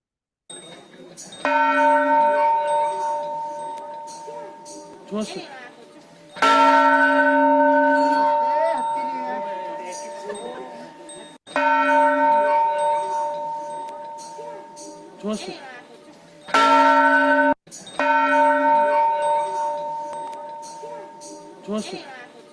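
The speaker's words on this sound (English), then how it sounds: "the exact sound that I was listening to was that of a bell sound, a temple bell sound." A temple bell is struck loud and close about every five seconds, each strike ringing out with a long humming tail that slowly fades before the next.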